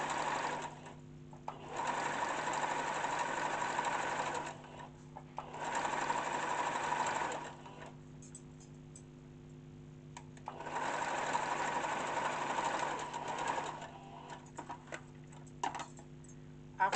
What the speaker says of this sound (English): So I'm just going to stitch that 1 centimeter straight across